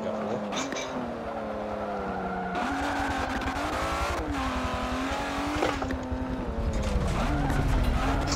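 A race car engine in Forza Motorsport 7 revs loudly and steadily, pitch rising and dropping through gear shifts as the car drifts, with tire squeal mixed into the continuous roar.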